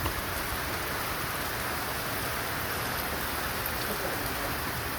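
Heavy rain falling steadily, a dense, even hiss of drops on surfaces that continues unbroken at moderate loudness, with no voices.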